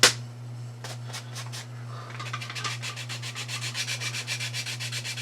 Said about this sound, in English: Put a little Jenga block here with some sandpaper on it.